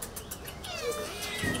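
A cat meows in a cattery sheltering many rescued cats, a single short drawn-out cry heard faintly against a soft, airy room background.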